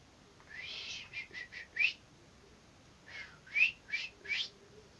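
A person whistles short bird-like phrases, two bursts of quick rising and falling notes separated by a pause, clear and fairly close against a quiet background.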